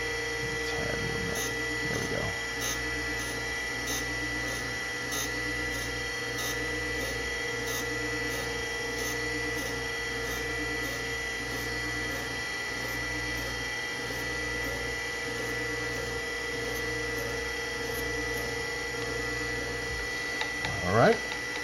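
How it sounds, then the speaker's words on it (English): A surface grinder works steadily on a blade in a workshop, a continuous machine hum with a regular rhythmic pulse of the grinding pass, holding at an even level throughout. "I'm going to go ahead and grind a little bit more."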